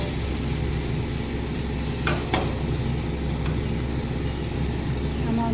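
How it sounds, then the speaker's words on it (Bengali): Garam masala powder and pressure-cooked cabbage frying in a pan, a steady close sizzle with a couple of sharp stirring scrapes partway through and a low background hum. "আমার মশলাটা সুন্দর করে ভাজা হয়ে গেছে"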